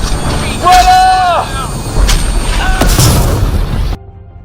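A crashing shuttle explodes in an audio drama after a lightning strike and onboard fire, heard as a loud, low boom with crash bursts and harmonic tones. The sound cuts off abruptly near the end.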